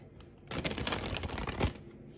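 A deck of tarot-style cards being shuffled before a reading, a quick riffling flutter lasting just over a second, close and clear against a quiet room with no talk.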